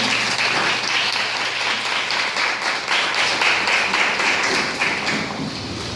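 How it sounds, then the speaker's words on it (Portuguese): Church congregation applauding together, a steady dense wash of clapping that carries on loudly throughout without pause. "Se você crê assim, aplauda ao Senhor"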